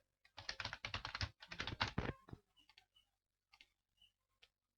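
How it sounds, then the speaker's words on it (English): Typing on a computer keyboard: a quick burst of rapid key clicks, then a few scattered soft taps trailing off into silence, close and fairly quiet. "so type the password"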